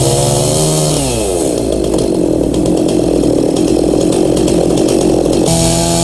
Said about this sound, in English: This will allow you to watch the tip of the saw as you plunge cut through.